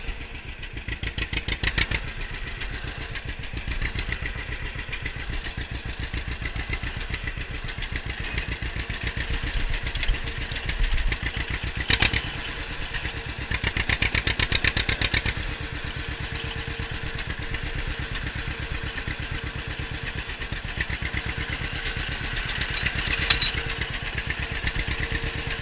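A 1954 John Deere Model 60 tractor engine runs steadily and close, with a continuous rough, chugging mechanical drone and occasional clattering.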